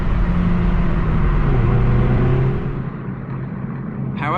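A manual Hyundai i30N hot hatch with a 275 horsepower front-drive engine, heard from inside: a loud, steady exhaust drone and engine rumble that eases off partway through, with faint crackles under it.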